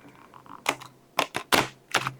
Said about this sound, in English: So take all the cards and shuffle them really good